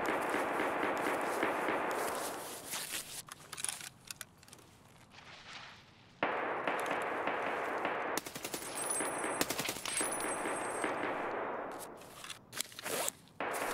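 Rapid automatic gunfire in the video game SPT (Escape from Tarkov), with dense sustained bursts broken by short gaps and scattered footsteps and clatter, loud and close.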